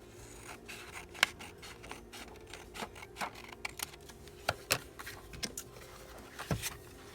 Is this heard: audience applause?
no